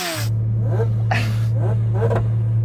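A Kawasaki H2R supercharged motorcycle with a noisy exhaust sits close by, its engine running as a loud, steady drone. Rough bursts of revving rise over the drone, and brief voices are heard.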